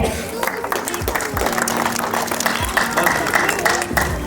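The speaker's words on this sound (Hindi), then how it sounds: "एक बार फिर से जबरदस्त तरीके से ताली बजाएंगे आप लोग" Audience clapping at a drama performance, a steady patter of applause over a few seconds, mixed with a voice talking over it.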